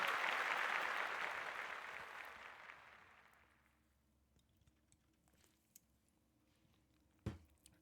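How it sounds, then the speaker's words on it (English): Applause from a live panel audience at Reel Talk 2023 swells loudly at the start, then fades steadily over about four seconds into near quiet, with a single sharp knock near the end. "Hey, claps."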